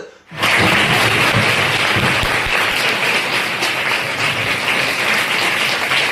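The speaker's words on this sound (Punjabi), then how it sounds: "ਸਕੂਲ ਸਟਾਫ ਅਤੇ ਵਿਦਿਆਰਥੀਆਂ ਨੇ ਤਾਲੀਆਂ ਦੀ ਗੜਗੜਾਹਟ 'ਚ ਗਰਮਜੋਸ਼ੀ ਨਾਲ ਕੀਤਾ ਸਵਾਗਤ" School staff and students applauding to welcome visiting Lions Club Batala Sewa Sapphire members, a dense, loud burst of crowd clapping that rises quickly and holds steady throughout.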